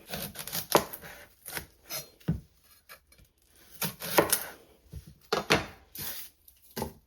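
A knife chops vegetables such as celery and onion on a cutting board for Thanksgiving stuffing, giving sharp, uneven bursts of close cuts separated by short pauses, with no talking.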